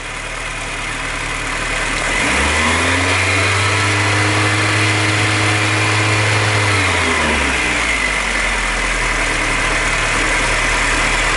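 A VW Golf Mk2 1.8 engine with a Pierburg carburettor, its bottom vacuum pipe pulled off, rises from a steady idle into a sustained higher rev for several seconds, then drops back to idle, loud and close with no talk.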